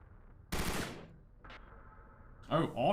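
Automatic weapon fire in the video game Discovery: Peripeteia: one loud, short burst followed by a brief second burst, then a voice starts talking.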